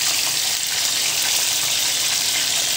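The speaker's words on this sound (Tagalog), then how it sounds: "Sa mainit na yung mantika, ipiprito natin ng bahagya itong ating isda." Tuna (tambakol) fish frying in hot cooking oil, a loud, constant, close hiss of sizzling oil with a fine crackling texture, steady and unbroken throughout.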